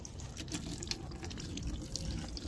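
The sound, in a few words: rinsing a rain-wet motorcycle with tap water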